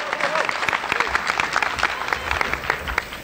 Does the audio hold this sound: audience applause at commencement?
yes